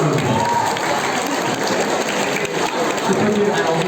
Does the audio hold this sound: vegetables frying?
no